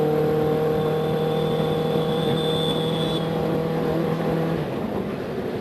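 A BMW G310GS motorcycle engine runs at steady high revs close by, a loud sustained drone with a whine that holds and then eases slightly near the end, with no talking.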